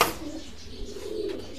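A pair of racer pigeons sitting on eggs at a pigeon farm gives a low, soft cooing close by, steady under faint background noise, after a brief sharp knock at the start.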